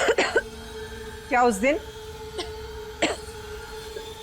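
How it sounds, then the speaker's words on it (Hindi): A woman in a Hindi TV drama coughs and clears her throat in short harsh bursts, close and fairly loud, broken up by brief speech. "हालत देखो अपनी, कितनी खांसी हो रही है तुम्हें।"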